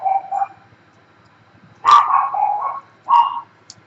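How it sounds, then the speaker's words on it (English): A dog barks indoors in a few short, sharp bursts separated by quiet gaps, fairly close and clear, with a faint higher yip near the end. "I'm going to have to quieten that dog."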